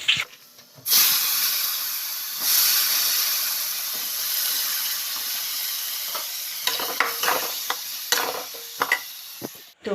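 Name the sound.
vegetables sizzling while frying with tempering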